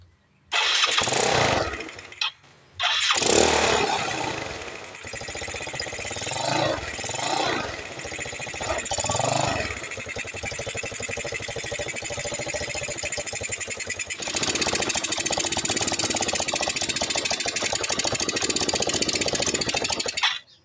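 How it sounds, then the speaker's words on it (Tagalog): A Mio Sporty motorcycle fitted with a 28mm carburetor cranks over a few times with uneven bursts before firing up, then settles into a steady, loud idle that rises slightly in pitch near the end. "start na uli natin yung motor natin"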